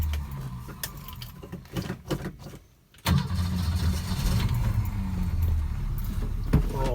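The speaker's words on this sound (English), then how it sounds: "let's get her started up." A 1968 Ford Mustang Coupe is cranked and fires up, followed by a steady, loud idle that continues through the rest of the clip, with faint key jangling and interior clatter before the engine catches.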